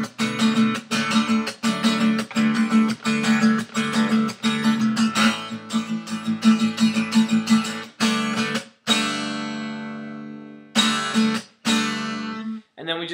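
Electric guitar power chords rhythmically strummed near the close of a verse leading into the pre-chorus of a song, loud and sustained with steady choppy rhythm, then a few ringing held chords toward the end, no talking.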